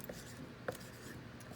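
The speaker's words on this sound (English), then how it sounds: "So I'm gonna go ahead and write that on the board." A number is written on a classroom board, a brief faint scratch of marker or chalk with one sharper tap partway through, quiet and without speech.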